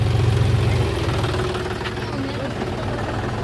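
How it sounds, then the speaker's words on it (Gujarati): A tractor engine idles steadily on a farm where pesticide is being sprayed, giving a loud, continuous low rumble that eases slightly after the first second, with faint voices in the background. "આ તો ટ્રેક્ટર લઈને આવી ગયો છે"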